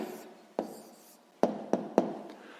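A pen writes an answer to a rectangle perimeter problem on paper, with soft scratching strokes and several sharp taps, close and quiet, with no talking.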